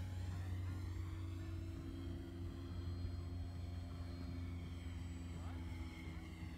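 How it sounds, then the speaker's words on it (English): A fully 3D-printed electric model airplane on a three-cell battery flies overhead, its propeller motor giving a steady, continuous drone throughout with faint voices in the background. "So the airframe is completely 3D printed, and it's a beautiful flying airplane."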